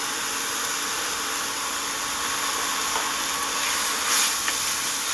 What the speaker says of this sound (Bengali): উচ্ছেটাকে ভালো করে ভেজে নিতে হবে